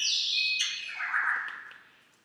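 A rescue greenwing macaw gives a single drawn-out squawk lasting about two seconds, loud and close, sliding downward in pitch and fading at the end.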